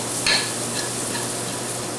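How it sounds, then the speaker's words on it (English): Pine nuts toasting in melting butter in a hot skillet give a steady, soft sizzle throughout, with a brief utensil scrape near the start. "We're gonna toast these pine nuts."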